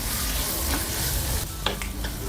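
Onion, tomato and garlic fry in oil over a wood-fired stove for village-style mutton sukka with Kashmiri red chilli. A steady close sizzle hisses throughout, broken by a few sharp scrapes and clacks as the mixture is stirred; no one speaks.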